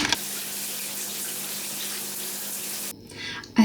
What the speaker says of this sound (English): let me just rinse off in the shower